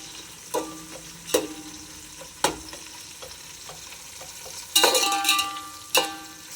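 Onions sizzle steadily in a pan while browning for mutton biryani, as a spoon or spatula scrapes and clanks against the metal several times, loud and close.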